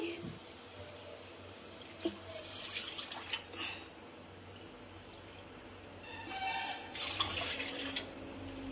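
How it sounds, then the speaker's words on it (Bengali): Water from two bowls poured into a cooking pot set over a lit gas flame, a soft splashing pour rising around the middle and end of the clip, faint against steady background noise. "দু বাটি জল দিয়ে দিচ্ছি"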